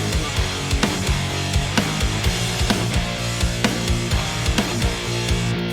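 A full drum track programmed in EZdrummer 2 for a band's remote songwriting plays steadily with punchy kicks, snare hits and busy cymbals in a driving rock groove, loud and continuous.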